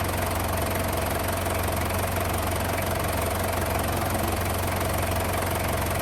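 A car engine, just repaired after misfiring, idles steadily and loudly up close with a constant low hum and an even, fast mechanical pulse, running alone without talk.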